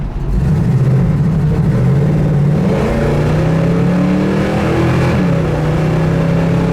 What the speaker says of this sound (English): I love the sound of the 351 Cleveland.